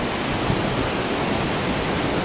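Constant rushing river water near a footbridge at the start of the Inca Trail in Peru, a loud, even, noisy flow that fills the clip without pause or voices.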